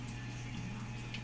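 Water rushes steadily into a Samsung automatic washing machine through a newly replaced solenoid valve, a continuous close-up hiss and flow with no talking.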